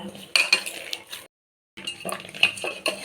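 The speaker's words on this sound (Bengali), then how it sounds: "এটাকে দিয়ে এবার আমি ভালো করে এটাকে মেখে নেব" Cooked rice being mixed by hand in a bowl with salt, whole cumin and nigella seeds, giving close, scattered clinks and soft scraping against the dish, a short silent gap in the middle, then more clinking.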